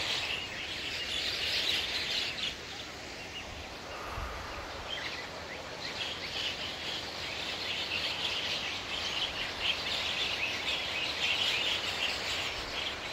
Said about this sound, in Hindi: इतनी सारी चिड़िया इस पेड़ में है।